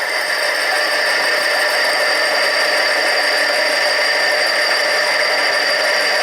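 Harbor Freight 7x10 mini lathe taking a light cut on an aluminum tube, a steady close metallic whir with rattling tool noise running unbroken, no voices.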